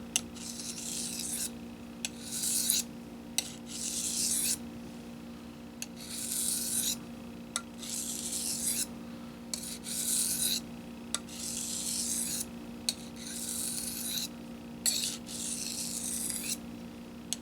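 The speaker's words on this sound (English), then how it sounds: "This is actually one of my favorite ways to sharpen a knife, because you can move the stone and the knife." A knife being sharpened on a Smiths sharpening stone, with repeated rasping strokes in a steady back-and-forth rhythm, close and clear, with brief pauses between passes.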